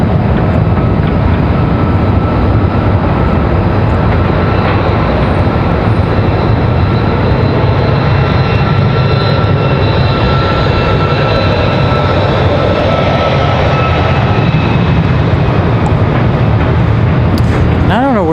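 A Boeing 737 Max jet airliner taking off from Raleigh-Durham International Airport, a loud, steady, sustained engine roar filling the whole stretch with a gradual shift in tone as it climbs away.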